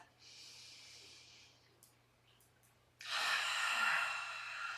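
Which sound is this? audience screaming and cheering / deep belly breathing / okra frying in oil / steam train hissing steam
deep belly breathing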